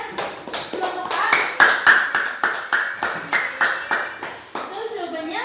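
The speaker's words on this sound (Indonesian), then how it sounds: "Tepuk tangan yang meriah." Classroom group clapping for a student group after their presentation, a brisk series of sharp hand claps with a few children's voices mixed in.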